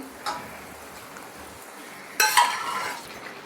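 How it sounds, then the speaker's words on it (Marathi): Vajri (goat tripe) goes into a spiced tempering in a pan with a soft click, then a loud burst of sizzling and stirring that gradually settles. "ही वजरी आहे ती ह्या फोडणीमध्ये घालून घेणार आहे"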